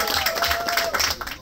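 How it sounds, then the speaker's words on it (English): An audience claps for performing artists at an emerging-talent stage show, dense applause mixed with crowd noise and some voices over a short stretch. "Let's give a claps up for them real quick."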